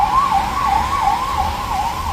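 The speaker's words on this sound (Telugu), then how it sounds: "ఇంకో అంబులెన్స్ పోతుంది ఫ్రెండ్స్" Ambulance siren wailing in a steady rising-and-falling sweep on a rainy night road, loud and close throughout with a low traffic rumble underneath.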